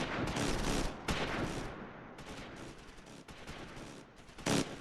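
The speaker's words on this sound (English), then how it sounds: "Lots of machine gun fire." Sustained machine gun fire and overlapping gunshot bursts from a Close Combat IV World War II battle, dense and loud with brief pauses and a final sharp burst near the end, no voices.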